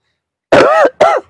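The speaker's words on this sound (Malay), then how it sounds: "Batuk." Two close, sharp coughs in quick succession, the first longer and throaty and the second shorter, set against silence.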